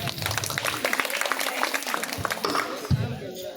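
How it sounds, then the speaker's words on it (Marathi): Audience at a Shiv Jayanti celebration at Yashwantgad, Redi, breaking into brief applause while an announcer's voice carries over the scattered clapping and crowd noise. "सर्वांनी जोरदार टाळ्या वाजवा."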